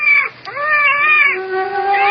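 A cat meows in a radio drama, close and loud, with a quick opening cry that slides into a long, wavering, whiny meow rising again at the end.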